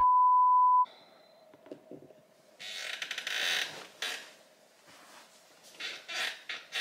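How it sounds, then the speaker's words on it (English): A squeaky chair creaks in several short bursts at close range, each one louder than the faint background, and a steady electronic beep tone is heard at the start. "Why do I have to have such squeaky chairs?"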